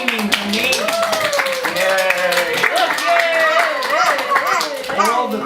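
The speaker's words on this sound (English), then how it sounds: "The crowd went wild, clapping their hands and screaming her name." A gymnastics crowd claps and cheers loudly, with rapid hand claps under rising shouts and voices that overlap throughout, busy and close.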